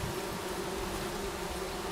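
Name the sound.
bees buzzing in video game Among Trees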